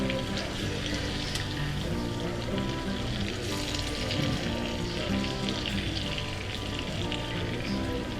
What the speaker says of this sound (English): I'll flip the chops a couple times here to make sure that they get covered into the butter as it's melting down